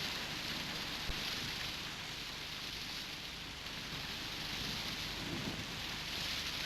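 Heavy tropical downpour during an Amazon rainstorm, a dense, steady roar of rain hammering surfaces without letup, close and loud, with no voices.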